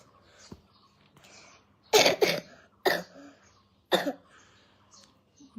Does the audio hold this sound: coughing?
yes